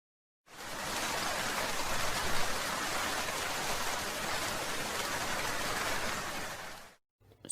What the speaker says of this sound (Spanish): Sonido de lluvia.